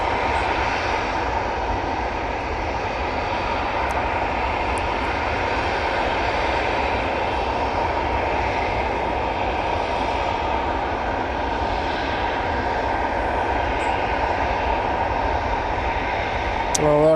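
A Ryanair airliner arriving at Manchester Airport, its steady loud engine roar filling the whole stretch without pause.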